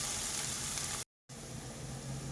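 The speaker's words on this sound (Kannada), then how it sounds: "ನೋಡಿ, ಈರುಳ್ಳಿ ಬೇಯ್ತಾ ಇದೆ" Onions fry with ginger-garlic paste in a pan for an egg masala, a steady, even sizzle that cuts out to a brief silence midway and then resumes.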